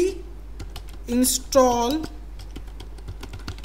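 Keys clack in short bursts on a computer keyboard while a terminal install command for MediaPipe is typed on a Raspberry Pi 4, ending with a press of enter, with someone talking briefly over the tapping.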